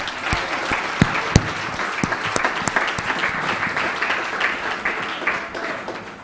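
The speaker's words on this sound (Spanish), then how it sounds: "Pois me quero pedir aplauso para nosso assistente que ajuda nós de maneira aqui" A small congregation applauds for their assistant at a church meeting, with uneven clapping and some loud, close individual claps punctuating a moderate, steady round of applause.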